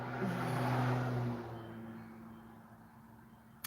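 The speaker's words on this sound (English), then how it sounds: "listen for a car coming to make sure nothing's coming" A car rushes past fast on a curved road, loud and close at first, then fading as it drives off, with no talk.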